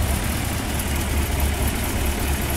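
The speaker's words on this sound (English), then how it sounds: "As we go into the engine compartment, you can just hear this 272 run absolutely fantastic." A 1955 Ford Sunliner convertible's 272 V8 engine idles smoothly and steadily up close, a low even rumble with a faint mechanical whir and no voices.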